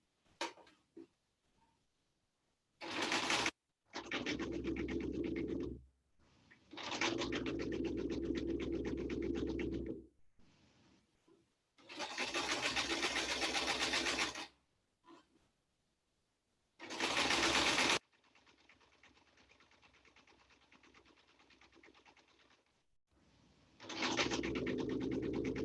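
Sewing machine stitching a shirt sleeve cuff close to the fusing edge, running in several bursts of steady whirring stitches separated by short pauses, close and clear with no talk.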